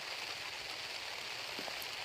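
Steady rain falls on a surface, a dense, even hiss that stays constant throughout, with a few louder individual drops, near and continuous, with no voices.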